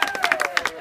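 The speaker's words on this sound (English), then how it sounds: "Now you can clap." Scattered hand claps from a small outdoor audience at a state park gathering, a quick uneven run of close claps with faint voices behind them.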